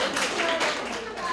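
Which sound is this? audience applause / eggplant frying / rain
audience applause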